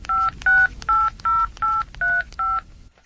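A phone keypad gives seven crisp, evenly spaced dialing beeps in quick succession, close and clear, in a radio drama scene about calling a lost mobile phone.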